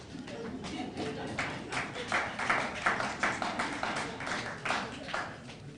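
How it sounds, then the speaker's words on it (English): Audience clapping at a hotel launch event for an anti-bullying campaign, a short burst of scattered, moderately loud claps with a few rhythmic peaks, amid room noise. "You can clap for that."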